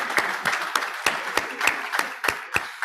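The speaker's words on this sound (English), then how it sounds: "So I think that deserves a round of applause." Steady, evenly spaced claps ring out at a school talk on education, sharp and close, about nine distinct hand strikes in a slow rhythm with little else around them.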